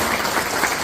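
An audience at an anniversary ceremony in Villarrica claps steadily, a dense burst of applause throughout.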